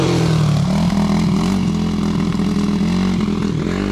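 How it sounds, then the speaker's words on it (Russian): Motorcycle engines drone steadily close by as the bikes ride past, a loud continuous buzzing hum with slight pitch wobbles and no speech. "Что-то он на разных мотоциклах ездит в паре."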